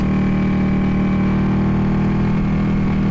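A Ducati 899 Panigale motorcycle engine runs at a steady, close, loud idle-like thrum, an even low rumble holding throughout with no talk over it.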